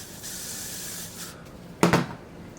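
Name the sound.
spraying Got2b hairspray on a wig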